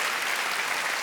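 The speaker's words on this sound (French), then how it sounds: "Vous pouvez vous applaudir très fort, vous avez été géniaux." A comedy gala crowd in Montreux applauds loudly, a thick, continuous roar of clapping filling the whole short moment with no speech on top.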